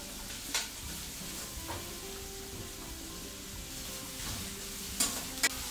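Shrimp sear in a hot pan with a steady, close, loud sizzle throughout, broken by a few sharp spatters and brief scrapes.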